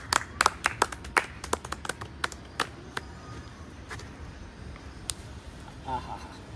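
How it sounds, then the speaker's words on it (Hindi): Scattered hand claps from a small group, sharp and irregular at first, then thinning to a few isolated claps, with faint talk underneath. "एक जोरदार तालियां हो जाए।"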